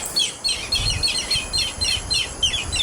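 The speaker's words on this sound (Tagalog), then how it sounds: "sumuhuni ang mga tikling ang dami pong tikling dito guys ang daming ibon" Barred rails (tikling) call in a rapid, repeated series of high, sharp chirps, steady and fairly close, with nothing else beneath them.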